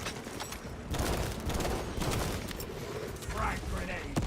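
Rapid bursts of video game gunfire crackle as enemies are shot, layered over a dense, continuous mix of game sound, with voices blending in.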